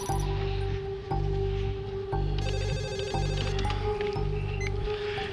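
An office telephone rings through the handset line on an outgoing call, a steady repeating ring tone pulsing at regular intervals over a continuous low hum, with no talk.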